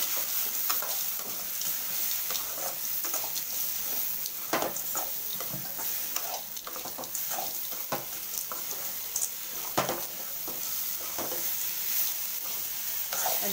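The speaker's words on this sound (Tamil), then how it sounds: "அஞ்சு நிமிஷம் வதங்கட்டும்." Grated coconut and roasted gram sautéing in a pan for a Chettinad tomato kurma, giving a steady soft sizzle with scattered stirring scrapes and ticks throughout, close up and without talk.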